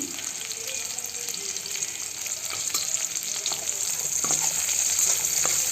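Onions frying in hot oil in a pan for ridge gourd chutney give a steady close hiss and sizzle with a few soft stirring scrapes.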